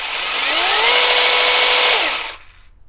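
IMOUMLIVE cordless 6-inch brushless mini chainsaw revving up in a short burst: a high electric whine rises, holds for about two seconds, then spins down and stops, close and loud, with no talk.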